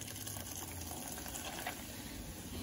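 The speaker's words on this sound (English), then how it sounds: "I'm going to take a Sprite and I'm going to put half a can of Sprite." Half a can of Sprite poured into a drink bucket for a summer beach drink, a soft continuous fizzing splash that runs quietly and evenly throughout.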